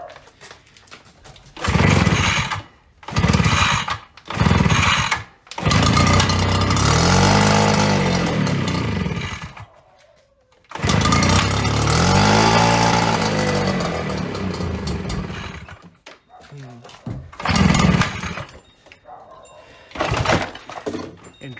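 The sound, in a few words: Aliexpress 65cc backpack leaf blower engine starting and running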